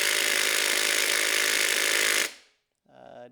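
A DeWalt impact driver hammers loudly and continuously on a fastener that will not turn, then cuts off abruptly, followed by a short, quieter rattle.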